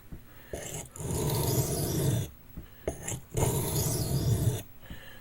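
A knife is sharpened on a very coarse finisher stone with two long, loud, gritty grinding strokes separated by brief pauses, close up and with no talking.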